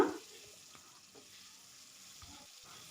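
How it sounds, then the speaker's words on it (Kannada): Boiled eggs frying in a pan with turmeric and salt, a steady low sizzle with a few soft stirring scrapes, fairly quiet and without voices. "ನಾವು ಆವಾಗಲೇ ಬೇಯಿಸಿ ಇಟ್ಕೊಂಡಿರುವಂಥ ಎಗ್ಗನ್ನು ಈ ರೀತಿಯಾಗಿ ಫ್ರೈ ಮಾಡ್ಕೊಳ್ಳೋಣ"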